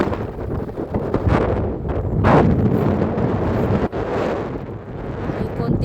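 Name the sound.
wind blowing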